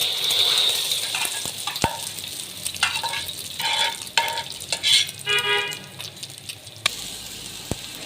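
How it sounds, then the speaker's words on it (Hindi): An egg fries in cooking oil in a wok, giving a sizzling hiss broken by scraping stirs and spatula knocks, loud and close with no voices. "अंडे को आपने अच्छे तरीके से फ्राई करना है।"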